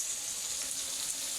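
Onions frying in a pan on a home kitchen stove give a soft, steady sizzling hiss, close by and unbroken, with no talking.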